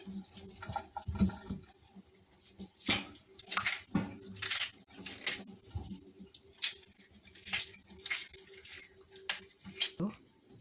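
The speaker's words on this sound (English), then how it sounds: "I'm just rinsing off my banana" Peeled green bananas are rinsed under running water, giving a series of irregular splashes and trickles that rise and fall in short bursts, close and moderately loud, with no talking.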